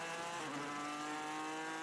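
A race car at the 24 Hours of Le Mans runs down toward Mulsanne on the final lap. Its engine holds a steady, sustained tone throughout, heard from inside or close by, with no talk over it.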